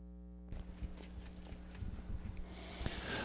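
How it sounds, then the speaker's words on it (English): Harness racing horses walk onto the track, hooves clip-clopping in an uneven rhythm at a moderate distance, with a low steady hum behind them and a rise of background noise near the end. "The horses and drivers are coming on to the track for the 8th race."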